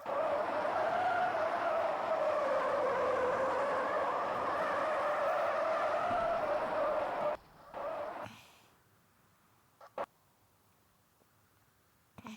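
A car engine in the Şahin Drift Police Simulator game roars steadily with a whining tone as it accelerates and drifts, then cuts off abruptly, leaving near silence with a couple of faint clicks.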